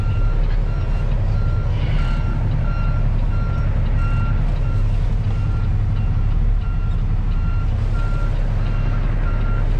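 A truck backing into a spot in snow sounds steady, evenly spaced reversing beeps over a loud, constant engine rumble.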